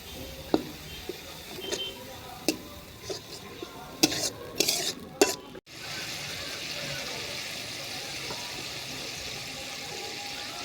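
Fish curry made with yogurt and kasuri methi gets stirred in a pan: a scraping, clattering stretch with a faint murmur of voice gives way to a steady, close hiss of frying.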